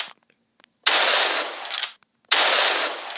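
Two bursts of rapid automatic gunfire from a video game weapon, each a dense rattling volley about a second long separated by a short pause, loud and close with no talking.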